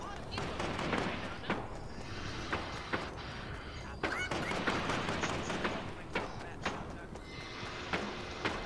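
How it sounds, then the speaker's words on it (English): Rapid gunfire from a video game crackles in dense bursts, with sharp shots scattered throughout and players talking over the action. "There's a lot of shooting going on."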